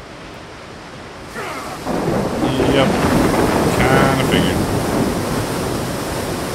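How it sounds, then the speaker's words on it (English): A rushing, roaring wash of water and wind swells up and holds loud as the character falls into water in the video game Far Cry Primal, with a brief spoken remark over it. "We're going to fall through some water again."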